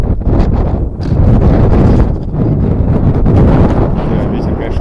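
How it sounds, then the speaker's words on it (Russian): Strong wind buffets a microphone outdoors during street BMX riding, producing loud, continuous low rumbling gusts that swell and ease across the whole stretch. "Ну, ветер, конечно, вообще мешает"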